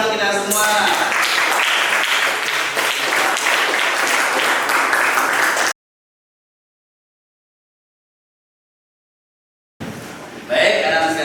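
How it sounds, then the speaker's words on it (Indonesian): Classroom applause from a group of students, a dense burst of clapping for several seconds that cuts to silence, then resumes briefly as a voice starts speaking. "Oke, tepuk tangan untuk kita semua."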